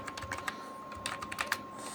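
Rapid keystrokes tap on a computer keyboard while text is typed into Photoshop, a close, quick irregular clatter of about a dozen clicks over a soft steady hum, with no talking.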